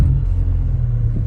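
A 1996 Honda Civic hatchback with a damaged exhaust runs with a loud, steady, low droning rumble, heard close and alone without any talk.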